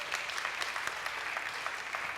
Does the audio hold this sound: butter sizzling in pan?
no